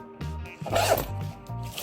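Zipper on a BoBoiBoy pencil case being pulled open and closed, several quick close scratchy zips in a row with brief gaps between strokes.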